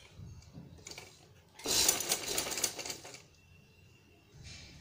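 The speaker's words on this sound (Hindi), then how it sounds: "मैं यहाँ पे सिलाई लगा दूँ" A sewing machine stitches the seam of a high-neck designer blouse. It starts with faint ticking and then runs in a loud, dense burst of about a second and a half. Softer mechanical clicks follow.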